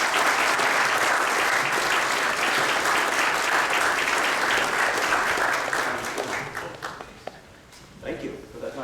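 A lecture audience applauds to welcome a history professor, with steady, full clapping that carries for about six seconds and then thins out to scattered claps under a voice.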